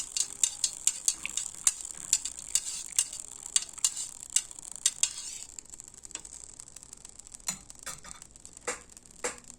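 Liquid being stirred during a thermometer lab exercise, with quiet repeated clinking ticks of a stirrer against glass in an irregular rhythm, faint and close.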